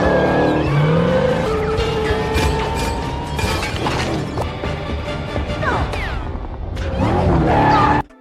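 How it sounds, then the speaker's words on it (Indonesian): A car in an action film stunt sequence with screeching tire squeals, skids, crashing impacts and shattering glass, all loud and layered over a busy soundtrack that ends abruptly. "Shaw dan Hope segera membawa sebuah mobil agar Haiti bisa melompat ke atasnya"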